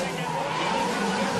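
A drift car's tires squeal and skid continuously during a Formula Drift Japan battle, a loud sustained hiss and screech.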